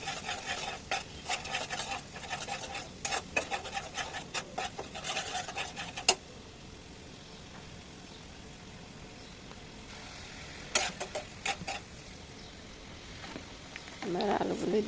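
Ground turmeric, coriander and cumin scraped and stirred in a hot pan, a brisk rasping rhythm in the first six seconds, then quieter background sizzle with a few more bursts of stirring near the end.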